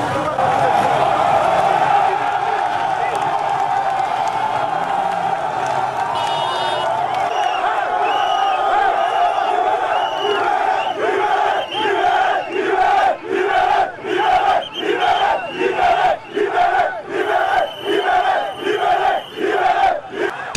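A large crowd of protesters encircled by police in Cameroon, shouting and chanting loudly throughout, the voices settling into a rhythmic, pulsing chant in the second half.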